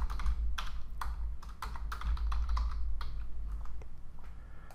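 Computer keyboard typing produces a steady run of crisp, close keystrokes that come in uneven bursts while information is entered, over a low constant background hum.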